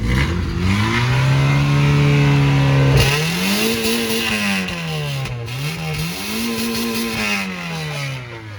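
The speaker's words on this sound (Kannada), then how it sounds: "ಸ್ಟಾರ್ಟ್ ಆಯಿತು ರೈಸ್ ಮಾಡು" A car engine starts with a sharp catch and settles into a loud, close idle, then revs up and down in several rising and falling swells.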